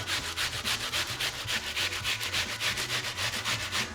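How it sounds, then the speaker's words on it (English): Half a raw red onion is rubbed against the smallest holes of a box grater, a close, rhythmic rasping of quick strokes repeating steadily with no one speaking. "You take half of a raw red onion and you grate it on a box grater on the smallest holes."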